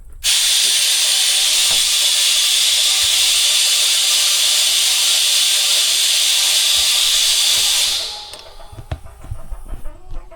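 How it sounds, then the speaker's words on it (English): An air compressor blows a loud, steady hiss of air into a pontoon on a Sun Tracker fishing barge for about eight seconds, then shuts off, leaving faint knocks and handling noises. "I'm gonna have to air up the air compressor again."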